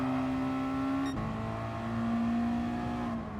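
Race cars in Gran Turismo Sport droning steadily, with a sharp gear shift dropping the engine pitch partway through before it climbs again, loud and continuous with no talk.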